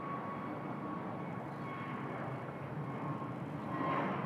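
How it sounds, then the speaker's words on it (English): A Cathay Pacific Airbus A321neo departs from an airport in Bangkok, its engines a steady, fairly distant roar with a faint whine riding on top, growing slightly louder toward the end. "Cathay A321 Neo underway. Away she goes."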